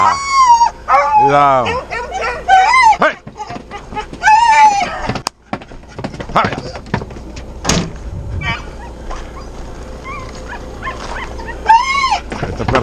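Foxhound and beagle hunting dogs bark, yip and whimper during a wild boar hunt in hilly scrub, the barking scattered and close, coming in bursts while people call out and talk over it.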